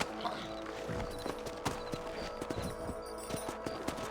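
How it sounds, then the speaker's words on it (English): In the Red Dead Redemption video game on Nintendo Switch, horses trot with a rhythmic clip-clop of hooves, fairly faint against a quiet game background. "Let's get back on the horses and see what else is going on."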